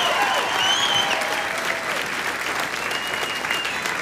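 A crowd at a stand-up comedy show claps loudly and continuously throughout, with some cheering and whistles mixed into the close, dense applause.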